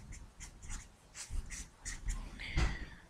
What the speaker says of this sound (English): And the D formula, we'll just write one here.